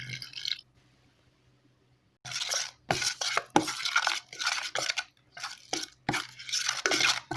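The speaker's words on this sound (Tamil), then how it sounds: "இது நல்லா மிக்ஸ் பண்ணி விட்டுக்கலாம்." A spoon stirs a wet spice masala of garam masala and cumin powder mixed with a little water in a mixing bowl, giving close, bursty scraping and clinking strokes after a short quiet pause, with no talk.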